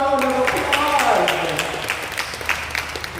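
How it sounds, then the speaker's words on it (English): Audience applause at the Jamaica Cancer Society annual general meeting, steady clapping from a crowd that begins under a speaker's voice and continues alone, gradually easing off. "Give yourselves a big round of applause"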